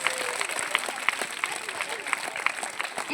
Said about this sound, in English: Claps, claps, claps.